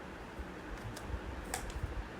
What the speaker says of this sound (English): We can just simply type here.